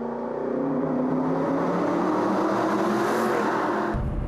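Aston Martin Vantage N430 with a 4.7-liter V8 drones steadily through its exhaust while driving, a continuous loud engine note that holds even before a brief change near the end.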